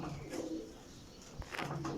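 Pigeons in a breeder pair cooing, two soft rounded coo phrases separated by a pause, close and fairly quiet against light background noise.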